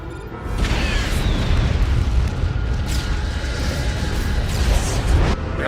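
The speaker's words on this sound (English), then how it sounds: "We have a neutron weapon detonation." A neutron weapon detonation in an animated sci-fi film, heard as a sustained, loud, rumbling roar that runs for several seconds with a dense low-end boom and no speech over it.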